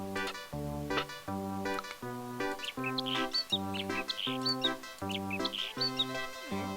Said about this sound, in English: Why am I getting bird sounds suddenly?